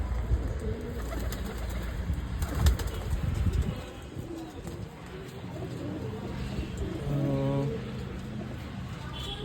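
Pigeons gather at the water inside a loft after feeding, with soft cooing and bursts of wing flapping close by over a busy, steady background. A faint voice surfaces briefly.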